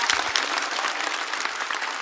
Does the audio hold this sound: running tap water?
no